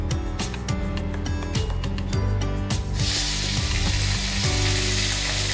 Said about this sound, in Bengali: এবার আমি এর মধ্যে দিয়ে নেব 1 টেবিল চামচের মতো পেঁয়াজ বাটা,